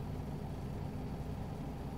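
Detroit diesel engine of a truck in American Truck Simulator idling with a steady low rumble, close and continuous, heard alone without talk.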